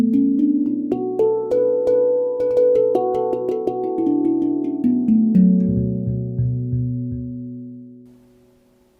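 A Neotone digital handpan tuned to a B Amara scale plays a melodic run of ringing, bell-like tones with clear struck attacks and long sustains, close and solo, fading out at the end.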